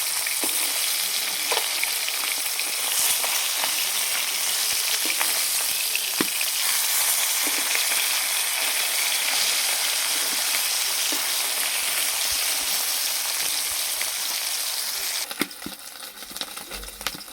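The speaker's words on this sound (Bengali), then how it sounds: "মাছগুলোকে এইভাবে উল্টে ভেজে নেব" Rohu fish pieces turned and fried in mustard oil give a loud, continuous sizzle with scattered spatters and occasional scraping clicks of a spatula, the frying dropping away near the end, no talking.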